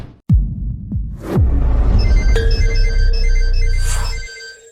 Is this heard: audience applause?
no